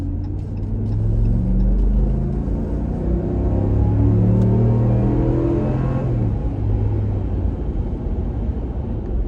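A 2020 Ram 1500 Laramie pickup truck drives along, its engine a low, steady rumble that builds as it accelerates, with tire and road noise, then settles back into a constant cruise.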